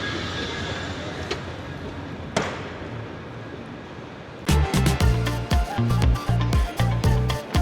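A train pulls into a station platform: a quiet hum of the station gives way to loud, rumbling wheel noise with rhythmic clattering as carriages roll close by.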